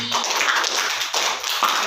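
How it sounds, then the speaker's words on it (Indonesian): A small group in an out-of-school counseling session claps hands together, a brisk close burst of applause running throughout, with faint voices underneath. "tepuk tangan untuk Widi"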